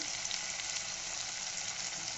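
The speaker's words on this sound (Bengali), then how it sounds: "মশলাটা ভাজছি" Turmeric, coriander, cumin and chili powder frying in hot oil for a curry-leaf fish curry: a continuous, bright sizzle, steady and close, with no voices.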